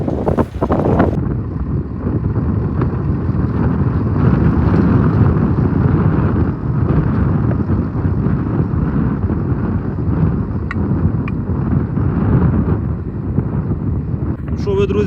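An MTZ-80 tractor pulls a plow through a field, its engine rumbling loud and continuous with heavy wind buffeting the microphone and a voice talking over it.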